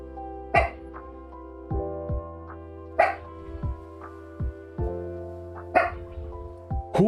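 Several dogs barking in sharp, separated bursts over about seven seconds, some barks louder and nearer than others, against a steady low background hum indoors.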